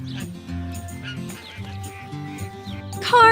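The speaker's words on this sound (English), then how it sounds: "Cars, do you hear who's quacking?" Cartoon rubber duckies quacking in repeated bursts of short, bright, honking quacks in a steady rhythm, close and clear, with a rising squeak at the end.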